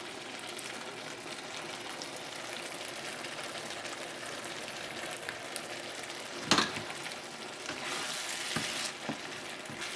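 Green onions frying with spicy beef and tofu in a hot wok, a steady dense sizzle across the whole stretch with a few sharper stir clatters near the end.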